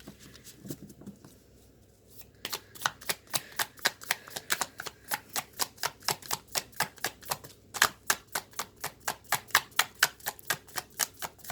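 Oracle cards are shuffled in a fast, steady rhythm of crisp papery clicks, close and clear, after a quiet start, with a brief pause near the end before the regular riffling resumes; no voices.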